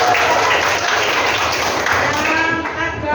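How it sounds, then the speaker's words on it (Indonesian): Classroom applause for a student: a dense, loud burst of many hands clapping at once, filling the room for a few seconds before starting to thin out. "Beri tepuk tangan."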